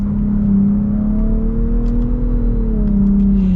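A 2022 Nissan Rogue Platinum with a CVT accelerates under paddle-shift control, its engine a steady, loud drone heard from the cabin, with its pitch climbing gently and dipping slightly at each simulated shift.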